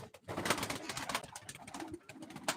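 Pigeons at a live pigeon auction give repeated cooing calls and fluttery chirps, fairly close and steady, over a busy indoor murmur, with no clear talk.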